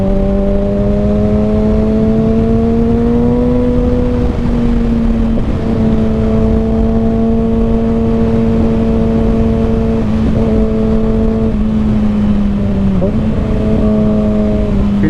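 A 2021 Kawasaki Ninja ZX6R motorcycle with an M4 Street Slayer exhaust rides twisty roads in the cold, its engine a loud, steady drone heard up close over constant wind rush, dipping briefly a few times as the rider shifts or rolls off the throttle.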